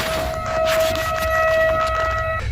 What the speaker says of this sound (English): the sirens sound quite high-pitched, almost like a car horn beeping long and restlessly